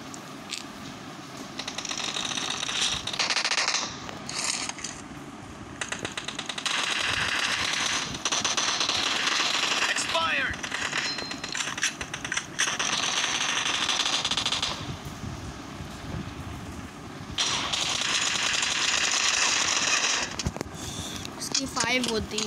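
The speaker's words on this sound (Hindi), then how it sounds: "ओ यार ये M24 चला रहा है" M24 sniper rifle and other gunfire crack in rapid bursts in PUBG Mobile team deathmatch, with shots and clattering game effects coming in waves while someone talks over much of it.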